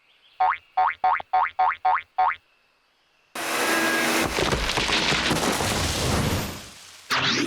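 Six springy cartoon boings bounce in a quick even rhythm, then after a short gap a tree-cutting machine roars up loud and harsh with a grinding, rattling whine for about three and a half seconds, stops, and briefly restarts.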